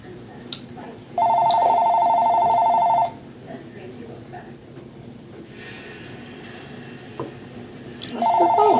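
A home telephone rings in two long, steady electronic bursts several seconds apart, loud and close, with people talking quietly in between during a jelly bean tasting game.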